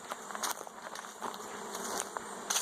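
Honey bees in a small mating nuc buzz in a soft, steady hum, with a few brief louder swells as individual bees pass close by.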